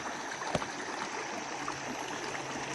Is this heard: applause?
no